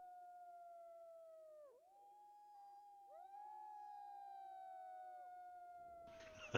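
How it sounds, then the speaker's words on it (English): Several long wolf howls as a sound effect in a tabletop role-playing session, overlapping rising and falling wails held steadily for seconds, ending in a brief burst of noise. "That's a lot of wolf howls."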